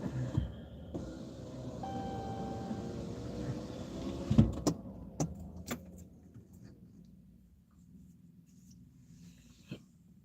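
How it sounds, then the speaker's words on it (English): Truck's power window rolling up: a steady motor whine for about four seconds ends in a soft thunk as the glass seals, followed by near-quiet with a few faint clicks. "I guess I'll roll my window up."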